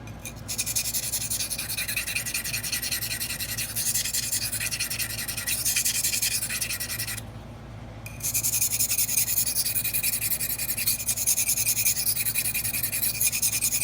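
A knife blade rubbing steadily against a sharpening stone in rapid back-and-forth scraping strokes, close and continuous, with a brief pause partway through before the scratching resumes.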